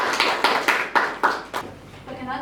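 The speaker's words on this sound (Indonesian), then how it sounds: "Tepuk tangan untuk kelompok" A small group claps a few times in a classroom session, about six separate rhythmic claps with a gap between each, fairly close and moderately loud, then a voice begins as the clapping ends.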